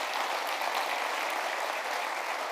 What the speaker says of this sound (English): So big round of applause to my colleague